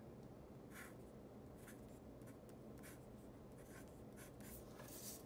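A Pilot Parallel 2.4 mm calligraphy pen scratches across paper in short, faint, irregular strokes, quiet and close, with soft pauses between marks.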